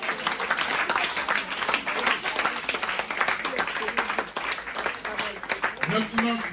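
A worship congregation claps and applauds to acclaim God, a steady dense wash of hand claps with crowd voices mixed in throughout, fairly close and continuous.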